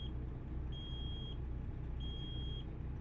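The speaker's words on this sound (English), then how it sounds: "Sorry for the beeping sound." Low air pressure warning in American Truck Simulator: a high electronic beep sounding in two long pulses over a steady low engine rumble, with no talking.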